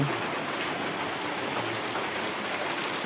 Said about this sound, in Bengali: বাইরে বৃষ্টি চলছে।